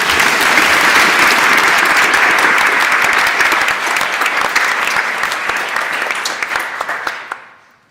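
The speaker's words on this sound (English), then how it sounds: "can we give one more massive round of applause to both of them" An audience at a New Zealand debating grand final gives a long, dense round of applause to the speakers, loud and sustained before it tapers off at the end.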